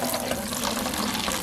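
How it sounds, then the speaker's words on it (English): Water runs steadily from a tap into a car wash soap bucket, a continuous close rushing and splashing fill with no talk. "go ahead and put some water in there"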